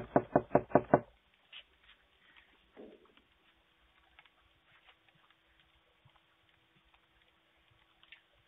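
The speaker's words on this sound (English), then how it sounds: "A guy knocking on this door at 3 a.m. early in the morning." A man knocks on a front door at 3 a.m. in Florida, five quick loud raps in a burst, followed by faint scattered ticks and small noises in a quiet night setting.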